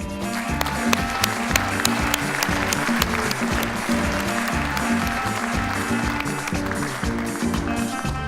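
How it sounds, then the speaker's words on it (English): Sustained audience applause fills a hall at the opening session of an international summit in Copenhagen, a dense, loud, continuous patter of many hands with low thumping underneath. "Please join me in a very warm applause for the special envoy from the government of China, His Excellency Wang Zhigang."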